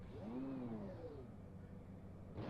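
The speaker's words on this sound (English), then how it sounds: "I'm revving the engine for you." An Alpine A450 race car revs in Project Cars, its engine note climbing and falling in a steady mid-pitched drone that holds throughout, close and clear with no voices.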